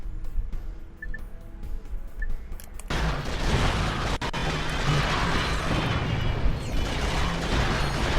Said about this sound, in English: Sufficient explosions.